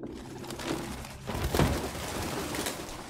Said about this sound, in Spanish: Más palomas.